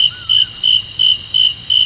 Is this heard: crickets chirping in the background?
yes